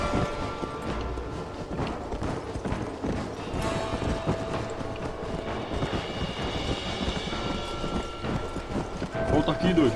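Hooves clip-clop at a running pace among game noises and shouting voices, the rhythm steady and fairly loud throughout, from the video game Red Dead Redemption.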